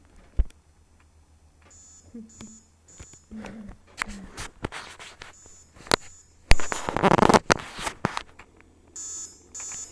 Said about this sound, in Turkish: Eyvah alarm çalıyor.